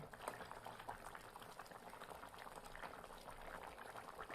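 A thin village-style curry of live snakehead fish with cauliflower, potato and eggplant, sprinkled with coriander leaves, bubbles at a steady, dense simmer in the pot, close and continuous with no talking.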